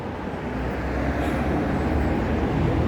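Steady, loud road traffic roar with a continuous broadband rumble, like standing beside a busy major road, no voices audible.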